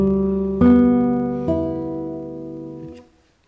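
Classical guitar plucked by the right hand held at 45 degrees to the strings: two clear, close, ringing notes about a second apart, each left to sustain and fade, with no talking.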